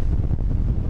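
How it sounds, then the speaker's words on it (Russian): Strong storm wind on a European seafront during a severe hurricane, a dense continuous roar buffeting the microphone, loud and close with no pauses. "Ветер здесь такой, что просто удержаться на ногах – уже испытание."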